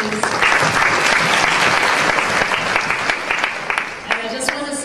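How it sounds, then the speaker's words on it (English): An audience at a financial inclusion conference claps for a speaker in a loud, dense round of applause that fills the room, then tapers slightly as voices begin to rise near the end. "we'll give Suran another round of applause, please"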